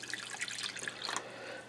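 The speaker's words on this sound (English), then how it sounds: "And I'm going to dump some water in." Water poured into a skillet of sweet Italian sausages, a steady splashing, bubbling pour filling about halfway up the links, close and continuous with no talk.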